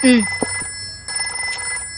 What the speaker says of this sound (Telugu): యా అల్లా, ఇప్పుడే ఫోన్ రావాలా?